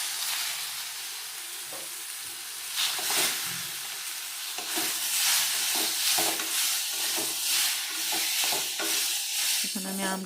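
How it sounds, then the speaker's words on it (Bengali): Boiled green mangoes with bay leaf being stirred in a hot pan, a steady frying sizzle broken by repeated scraping strokes of a spoon against the pan, close and moderately loud. "এখন আমি আমটা লাড়াচাড়া করে"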